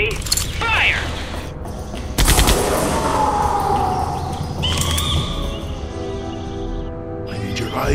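Gunfire in the PC game Jurassic Park: The Game: a loud close burst of shots amid mechanical clatter and a sustained tonal whine, over a dense, rumbling backdrop.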